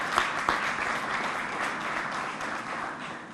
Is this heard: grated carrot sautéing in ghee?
no